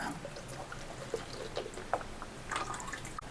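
Quiet oil pouring into a bowl for homemade soap, soft trickling and a few drips, close and low in level, with no talking.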